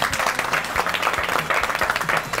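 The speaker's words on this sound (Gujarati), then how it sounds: "કોંગ્રેચ્યુલેશન અને જોરદાર તાળીઓ એમના માટે" Studio audience on a Gujarati game show claps for the contestants, a lively patter of individual hand claps forming a moderate, steady round of applause.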